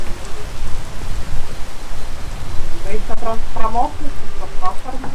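Steady hiss of rain falling in the video game PEAK, a broad wash of noise throughout, with people talking over it.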